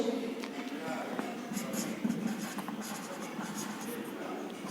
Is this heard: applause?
no